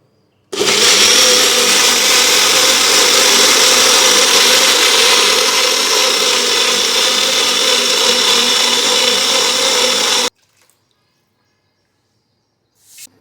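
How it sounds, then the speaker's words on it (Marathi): A mixer grinder blending sesame seeds and tomato runs as a loud, steady whirring drone for about ten seconds, then cuts off abruptly into silence. It is close, with no talking. "थोडेसे तीळ आणि टोमॅटो मी याच्यामध्ये आणि बारीक करून घेते"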